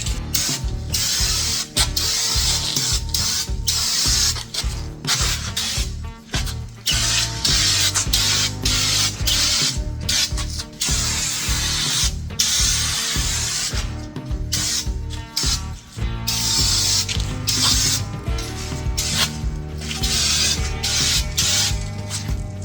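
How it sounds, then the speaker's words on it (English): Spray can spraying paint under a tractor hood: long continuous hissing bursts broken by short pauses and clicks, close and loud, with no talking. "I'm going to try to get under here with the can and spray forward, getting into the back side of that"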